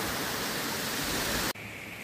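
A huge waterfall plunging down into a Norwegian fjord near Stavanger roars as a dense, continuous broadband rush, then cuts abruptly to a quieter, thinner wash.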